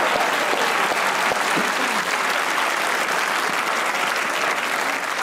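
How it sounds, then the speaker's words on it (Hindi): Studio audience applause on a Pakistani comedy talk show, welcoming a guest: a dense, continuous roar of many clapping hands, loud and even throughout with no talking. "हमारी ऑडियंस की इनके लिए एक बार तालियां होनी चाहिए"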